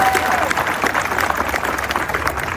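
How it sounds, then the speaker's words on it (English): A crowd at the grand opening of the Waterfront Playport gives a round of applause for the mayor, with dense, steady clapping and some cheering throughout, fairly close and loud. "We all should give him a round of applause as well."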